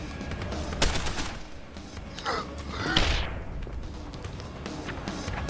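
Combat rifle fire in the video game Deus Ex: Human Revolution, a few sharp gunshot bursts and thuds spaced over several seconds against a constant game ambience backdrop.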